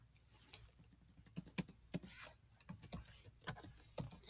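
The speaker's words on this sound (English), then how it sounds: "I would recommend that you type in Scratch." Quiet, close computer keyboard typing, a quick irregular patter of key clicks with brief pauses, heard alone in a still room.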